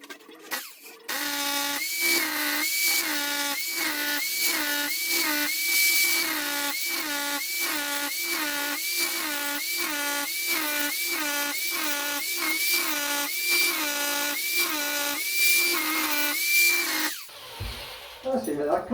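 A power drill runs during a DIY kitchen job fitting outlets, whining in rapid pulsing bursts as it bites into material for about sixteen seconds, loud and close, then stops.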